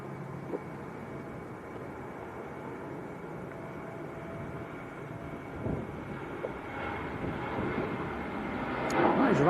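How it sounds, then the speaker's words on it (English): A Ryanair airliner passes at Manchester Airport as a low, steady jet roar that swells gradually toward the end, moderately distant, with faint voices in the background. "That is Ryanair to Rimini."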